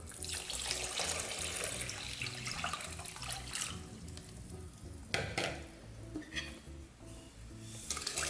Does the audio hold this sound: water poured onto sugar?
yes